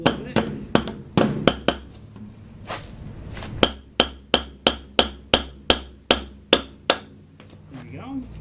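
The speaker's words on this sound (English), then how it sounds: "Use my hammer, coax it in there a little bit." Sharp, evenly spaced hammer taps drive a live axle into a wheel's keyway during an axle swap, a loud metallic strike roughly every third of a second with a few irregular blows at the start.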